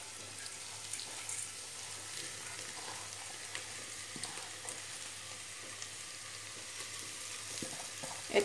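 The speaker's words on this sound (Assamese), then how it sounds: "এতিয়া মই ইয়াত মগু দাইলখিনি দি দিম। মগু দাইলখিনি ভালদৰে গোল্ডেন ব্ৰাউন হোৱালৈকে ফ্ৰাই কৰি ল'ম।" Moong dal frying in oil in a pan until golden brown, giving a steady soft sizzle and crackle throughout with light stirring scrapes near the end.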